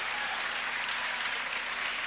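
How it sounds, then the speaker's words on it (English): A crowd at a 1998 men's college basketball game against Saginaw Valley State applauds in a steady, even wash of clapping from a large audience, heard from a distance and with no talk over it. "It's a nice hand from the crowd here."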